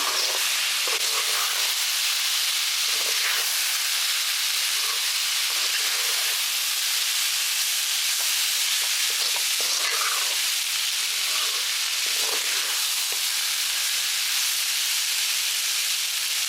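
A lunch-box rice dish is stirred and fried in a pan, giving off a loud, constant sizzling hiss with faint scraping stirs woven through it, steady from start to finish.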